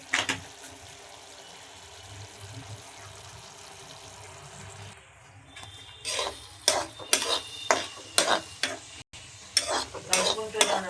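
Curry is stirred after chili powder and peanut powder go in: a soft low sizzle at first, then a run of close, sharp spoon scrapes and clinks against the pan.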